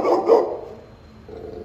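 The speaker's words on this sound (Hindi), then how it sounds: "कुत्ता" A dog lets out two quick, close barks in a row, followed by a quieter lingering yelp, in a city market area.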